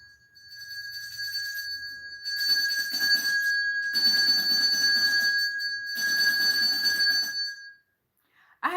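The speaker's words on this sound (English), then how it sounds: "Gotta ring the bell, y'all." A bell rings out in a sustained, steady tone with bursts of clanging strikes, loud and close, then cuts off abruptly near the end.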